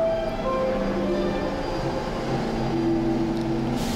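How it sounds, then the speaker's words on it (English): Subway train at the 42nd Street Times Square station in New York City pulling out, a steady rumbling roar with tonal whines and squeals rising over the continuous noise, with no voices. "Maybe I'll film the train pulling out for dramatic effect."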